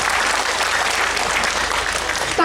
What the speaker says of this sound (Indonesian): Ayo tepuk tangan dulu buat semuanya.